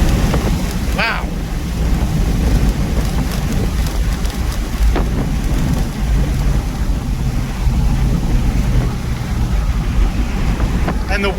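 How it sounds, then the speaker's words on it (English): Heavy wind buffeting roars through the cabin of a Mazda Miata RF at speed, a loud, constant rushing with low throbbing gusts, brief squeaky tones and a faint voice underneath. "And the wind buffeting is crazy."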